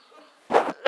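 A person coughs during a Jaya Ekadashi devotional discourse and morning aarti at Keshav Kunj, Vrindavan: a harsh, fairly loud double burst after a quiet moment, with a second cough starting at the very end.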